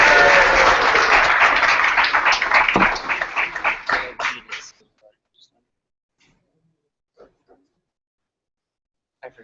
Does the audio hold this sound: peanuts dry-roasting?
no